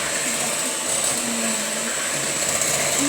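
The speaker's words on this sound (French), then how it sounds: "ensuite vous devrez prendre un batteur électrique" An electric hand mixer beats crêpe batter of milk and flour with a steady, loud, high-pitched motor whine and a faint whir from the beaters in the bowl, with no one speaking.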